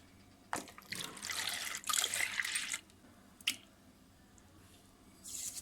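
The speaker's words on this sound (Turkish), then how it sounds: "Öncelikle sıvı malzemelerimi karıştırıyorum." Liquid ingredients for homemade hamburger bun dough being mixed in a bowl: close, wet squishing and sloshing in a few uneven bursts with short pauses between, no talking.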